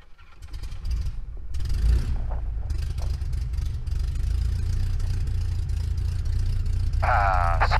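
A Luscombe light aircraft's piston engine cranks and catches, then settles into a steady, loud low rumble running close by, with no talking.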